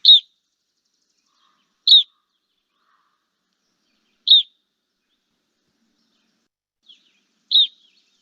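Played recording of a type 3 crossbill flight call: five short, sharp, high chip notes spaced a couple of seconds apart, clear and isolated against silence.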